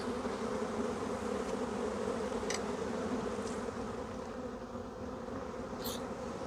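Agitated honey bees from a freshly shaken package give off a steady, dense buzzing hum that holds on throughout, with no voices over it.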